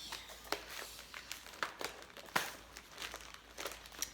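A plastic bag holding air cushions is opened by hand, giving irregular crinkling and rustling with several sharper crackles, close and fairly quiet, with no talking.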